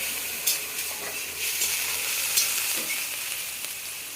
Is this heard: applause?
no